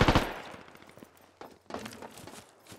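Gunfire in the military shooter game Squad: a loud close shot at the start, then scattered fainter shots and thuds with footstep-like movement.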